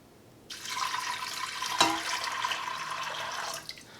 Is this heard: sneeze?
no